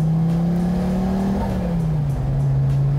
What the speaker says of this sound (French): T'entends le turbo?